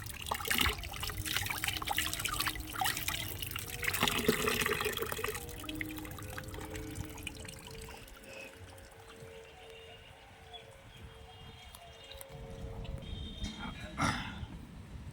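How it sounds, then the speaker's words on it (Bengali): Tap water trickles and splashes in a steady stream while hands are washed outdoors in hot sun, loud at first then easing to a quieter flow before a final burst of splashing. "একটু হাত ধুয়ে নি"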